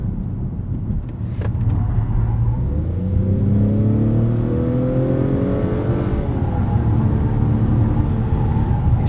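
A 2021 Acura TLX SH-AWD with a 10-speed transmission accelerates hard out of a corner, engine note rising steadily in pitch for several seconds and then shifting, loud and close, over road and tyre noise.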